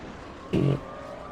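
Race cars from a Petit Le Mans 2005 racing video game, a field of LMP and GT1 cars, flash past in one brief, sharp engine whoosh that rises out of a quiet background and fades quickly.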